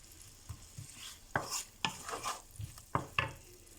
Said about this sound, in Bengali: আমি 5 মিনিট জাল দিয়ে ভাজবো পেঁয়াজ দিয়ে